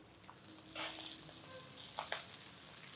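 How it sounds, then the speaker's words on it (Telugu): Rice frying with whole spices in a pan for Kashmiri pulao: a soft, steady sizzle with a couple of brief scraping stirs, fairly quiet and with no talking. "మసాలా దినుసులు వేగంగానే ఈ బియ్యాన్ని ఇందులో పోసేసి వేయించుకోవాలి"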